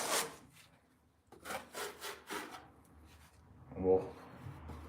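A big scraper rasps old mix off a ceiling during a water-leak void repair, in a few rough scraping strokes separated by short pauses, close and moderately loud.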